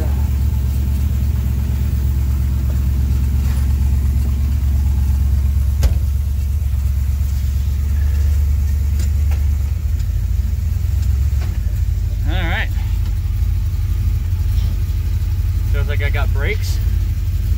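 A 1978 Jeep J10/J20 engine rumbles loud and low on a test drive, holding a steady drone close to the microphone while someone talks over it, with a few brief squeaks near the end.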